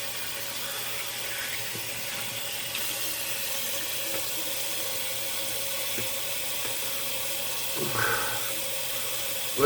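A bathroom tap runs steadily for a cold water rinse after a shave, an even close hiss of flowing water with a faint clink near the end.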